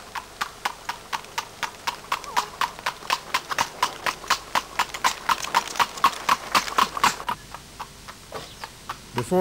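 A pony's hooves clip-clop at a steady walking rhythm while it pulls a carriage, with evenly spaced, moderately close hoof strikes continuing throughout, a faint insect buzz in the background.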